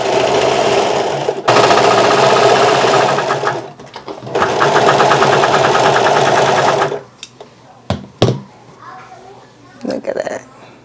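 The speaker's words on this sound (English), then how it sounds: "As it's serging, it's cutting off the fabric at the same time, you guys." A Vevor industrial serger runs in two long, loud bursts of rapid mechanical chatter as it stitches and trims fabric, then stops, leaving a few clicks and some talk near the end.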